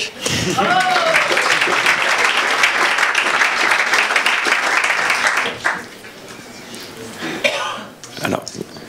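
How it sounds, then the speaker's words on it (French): Audience applause at an evening entrepreneurs' event in Nantes, a dense burst of clapping that fades after several seconds, followed by scattered claps and a cough. "on applaudit la BNP, qui est notre partenaire désormais"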